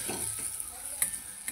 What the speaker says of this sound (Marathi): सगळे मसाले आपल्याला मिक्स करून घ्यायचे आहे.